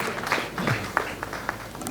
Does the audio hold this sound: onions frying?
no